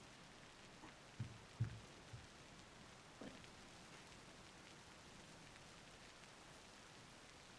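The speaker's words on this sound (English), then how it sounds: "with rain pouring down, the relaxing sound of it hitting the roof and against the window." Rain pours onto a roof and patters against a window in a video game, a faint, steady hiss throughout with a few soft knocks early on.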